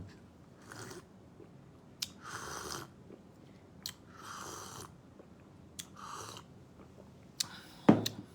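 Someone chewing black seed granules, with several soft crunchy bursts of mastication spaced a second or so apart and occasional sharp clicks, close and fairly quiet over faint room noise.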